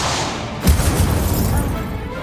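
A Confringo spell explosion in Hogwarts Legacy gameplay: one sharp booming blast bursts out, then a rumbling decay fades under faint ambient sound.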